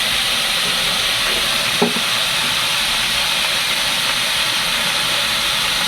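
Chopped tomatoes and brinjal cooking with salt for a sambar, a loud steady hiss of frying with one brief clink partway through, no talking.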